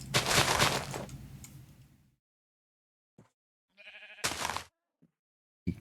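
Sheep in a video game give a few short bleats after a loud burst of game noise, each cry brief and clear with gaps of silence between them.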